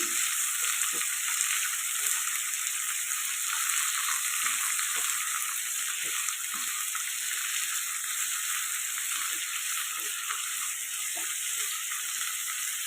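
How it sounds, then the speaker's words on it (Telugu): Chopped ivy gourd frying in a little oil, giving a loud, steady hiss of sizzling that runs without a break, with occasional soft taps of a stirring spoon underneath. "కొద్దిగా ఆయిల్లో ఫ్రై చేసుకున్నాం ఒక రెండు నిమిషాల పాటు"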